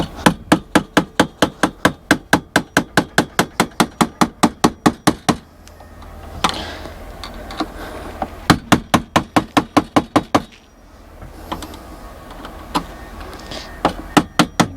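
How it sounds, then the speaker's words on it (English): Steady rapid hammer blows ring out while working on an RV, a quick even series of sharp close strikes, a pause, then another burst and a few scattered hits, with no talk. "Every time you hammer,"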